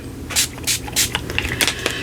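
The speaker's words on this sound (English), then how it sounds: "I'm just going to spray a little bit of that on there." Distress spray stain misted in short hissing bursts onto a crafting surface, about half a dozen quick sprays at an uneven rhythm, close and fairly loud with no talking.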